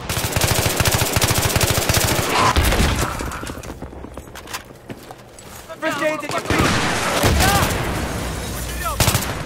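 Dense gunfire in the video game Battlefield 3 with an AEK rifle: rapid automatic bursts and scattered shots run nearly continuously at close range, briefly thinning midway, with a voice talking over parts of it.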